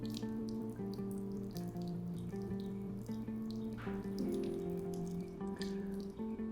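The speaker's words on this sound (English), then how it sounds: "Before you store this inside, it might be full of water, so make sure to drain it" Water trickling and dripping as it drains from the shower connector of a TAXA Habitat camper, a soft steady run with small irregular drips over a low hum, quiet throughout and with no speech.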